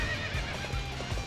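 Horse in Dynasty Warriors 8: Xtreme Legends whinnying and neighing with clip-clop hooves underneath, steady game audio throughout with no talking.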